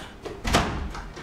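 A single hard door slam, a short dull thump that rings out briefly in a room with no voices.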